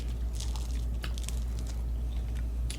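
Close-up crunching bites into crusty baguette, crisp crackles repeating over a low steady background hum.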